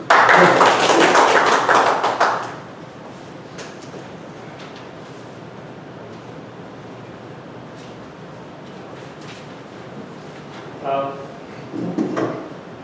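A round of applause for a Toastmaster at a club meeting, a loud burst of clapping from a small gathering that lasts about two seconds and fades, followed by quiet room tone and brief scattered sounds.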